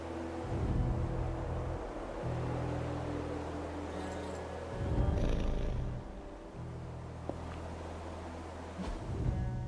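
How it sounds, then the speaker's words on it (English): A cat purrs in Marvel's Midnight Suns, a steady low rumbling loop that swells and settles in long cycles, close and continuous with no talking. "Who is a good kitty?"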